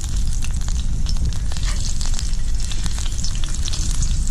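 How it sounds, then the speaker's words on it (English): Steady, loud sizzling of seasoned squirrel meat frying in a little oil in a cast iron skillet over a fire, with dense crackle and spitting throughout. "Just got a cast iron skillet with a little bit of oil in it."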